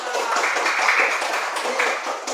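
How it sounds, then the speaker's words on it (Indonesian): Classmates clap for group 2 in an Indonesian science lesson, a brisk, close burst of many hands clapping together, fairly loud and steady throughout. "Ya, tepuk tangan untuk kelompok 2."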